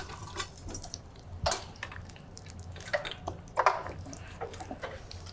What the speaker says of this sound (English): So while our water is boiling, I'm gonna add a couple of these right to it.